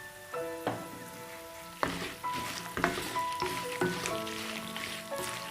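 Urad dal frying in a pan for Karnataka-style tamarind rice, with crackling sizzle and a few sharp metallic clinks from a spoon stirring against the pan, close and moderately loud, with no talking.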